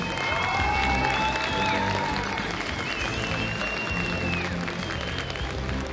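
An audience at a cosplay contest claps steadily and loudly for several seconds, a dense wash of applause with whistles or squeaky tones sliding over it.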